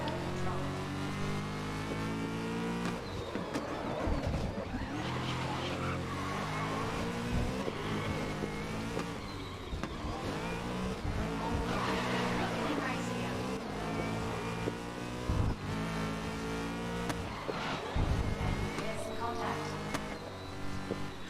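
Race cars roar through the final lap in the video game Grid, engines revving and shifting up and down continuously with tyre skids, loud and close, with a voice talking over it at times.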